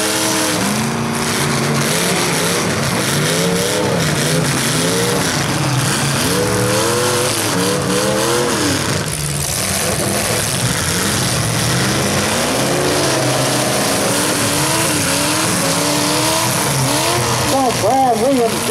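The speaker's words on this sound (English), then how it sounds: "So Brad Williams just took a shot at Patrick Struthers and drove him all the way against the wall" Full-size cars at a Scott County demolition derby heat, engines revving and wailing in repeated rising and falling pitches, with tire squeal and crunching impacts, loud and continuous under an announcer's commentary.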